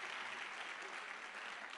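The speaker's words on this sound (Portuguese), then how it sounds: "vamos aplaudir a Jesus." A church congregation claps for Jesus during a Sunday service sermon, a dense, steady wash of applause that holds evenly at a moderate level throughout with no voices over it.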